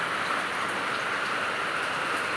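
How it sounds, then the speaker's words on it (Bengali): Torrential rain pours down, a dense, even roar of drops drumming on surfaces, close and unbroken from start to finish. "মুসলধারে বৃষ্টি হচ্ছে"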